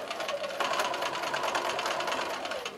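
A sewing machine runs steadily and fairly close as it stitches quilt setting triangles, a continuous rapid whirring chatter with a slight change in pace partway through and no voices.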